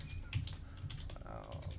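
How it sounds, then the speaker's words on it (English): Keyboard typing on a computer keyboard during a podcast, a steady stream of soft keystrokes sitting under low background rumble and faint voices. "as I hack at my keyboard"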